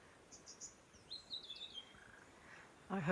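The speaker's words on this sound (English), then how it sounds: "I heard the bird calling and just had to stop to listen." Small bird calling in a wet Tasmanian west-coast forest near a river: a few faint, high chirps and short whistled phrases spaced over quiet background, with a louder rustle at the end.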